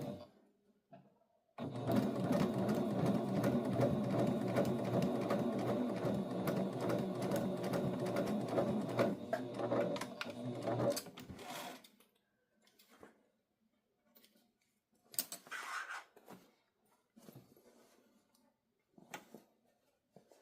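A sewing machine runs steadily for about ten seconds, stitching a seam at the original seam allowance on a homemade pattern piece, then stops, leaving quiet handling sounds and a few soft clicks.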